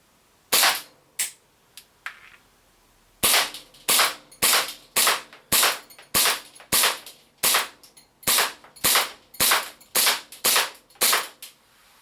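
An Army Custom 5.1 airsoft pistol fitted with a Costa compensator fires a few spaced shots, then a long, evenly paced string of about thirteen crisp, snappy pops, close and loud with no talking.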